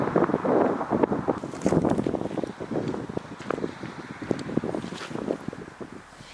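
Gusty wind on a mountainside buffets the microphone in uneven rumbling bursts, loud and close, with no voices.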